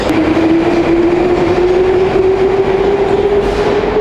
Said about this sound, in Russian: выпускается новогодний праздничный ретро-поезд